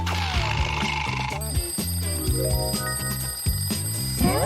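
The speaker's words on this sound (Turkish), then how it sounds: "alarm ne anlama geliyor biliyorsun" An electronic alarm rings with repeated high-pitched tones over a background of rhythmic music, steady and fairly loud throughout.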